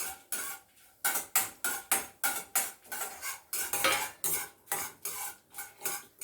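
Radish, coconut and curry leaves are dry-roasted and stirred in a pan, with a metal spoon scraping and clinking in a steady rhythmic series of strokes about every half second, fairly close with a faint sizzle beneath.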